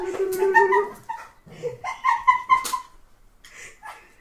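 A dog gives a string of high, whining whimpers and short yips in uneven bursts, close and fairly loud, pausing briefly before a few fainter cries at the end.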